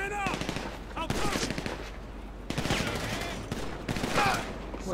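Heavy automatic gunfire in a Grand Theft Auto V shootout with police, dense rapid bursts with short breaks and ringing tails, loud and close, with voices shouting over the shooting.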